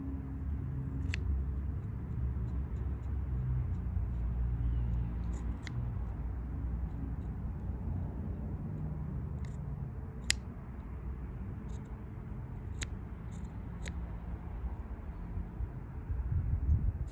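Shears pruning a thick cedar branch outdoors: a handful of sharp, faint clicks and snips, spaced irregularly over a low background hum.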